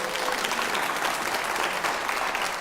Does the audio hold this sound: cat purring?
no